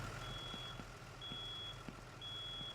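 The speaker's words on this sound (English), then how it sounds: "I hear the fire alarm" Fire alarm in the firefighting video game Into the Flames, sounding three evenly spaced high, steady electronic beeps, each lasting about half a second, over a low engine-like rumble.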